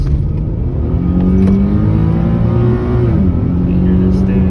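Infiniti G37 engine building revs under acceleration on a short street drive, a loud steady drone with rising harmonics that dips briefly near the three-second mark before pulling again, heard from inside the car.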